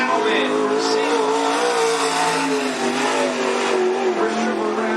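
A Maxim-chassis limited sprint race car, number 11, laps Cottage Grove Speedway with a loud, sustained engine roar that rises and falls slightly. An announcer talks over it throughout.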